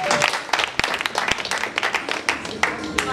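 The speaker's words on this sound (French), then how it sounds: "Veuillez applaudir pour elle." Scattered hand claps from a small gathering honouring a staff member awarded two medals at a company ceremony, irregular and moderately close, with some louder individual claps standing out.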